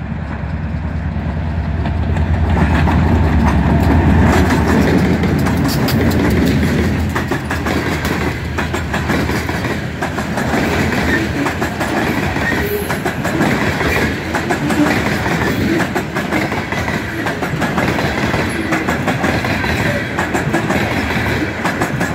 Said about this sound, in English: He's got another locomotive there on the end, another SD38-2, and it'll be in, he's throttling it up now,